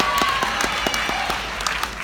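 Applause at a close-up card magic act, a moderate crowd clapping steadily with individual claps audible, a faint tone briefly present near the start.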